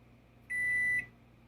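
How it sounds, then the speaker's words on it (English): A Toshiba 6-in-1 inverter countertop microwave air fryer combo gives one clear, steady electronic beep lasting about half a second, close and loud against a quiet room. "right now we're investigating the chat lock and sound toggle of this microwave."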